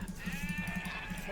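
Sheep in Age of Empires 2 bleat close up in a quick wavering cry over a faint steady game background, with no talk over it.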